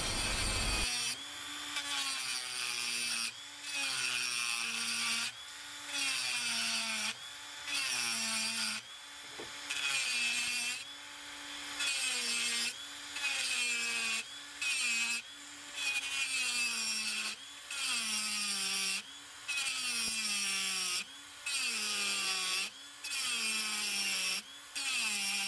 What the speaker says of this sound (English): I'm going to remove them with a Dremel tool with a reinforced cutting wheel.